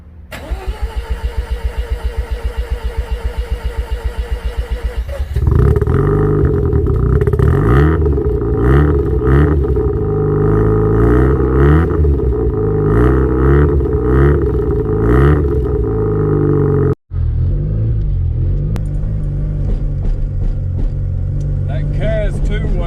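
A Mazda RX-7 FC3S rotary engine cranks for several seconds, catches and fires up, then revs repeatedly in surging bursts before a sudden cut, settling into a rough idle, loud and close, with voices talking.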